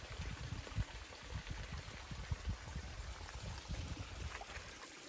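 Mountain stream on Mt Mitchell crossing a hiking trail, a soft, steady trickling and gurgling flow with small irregular splashes, close by and fairly quiet, with no voices.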